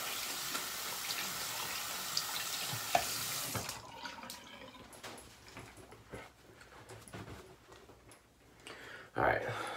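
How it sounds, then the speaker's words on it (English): A 28 mm Paladin Harlequin Buck Rogers shaving brush is rinsed under a running tap, giving a steady rush of water for about three seconds before it stops, followed by quiet handling noises. "So let me rinse off this brush real quick."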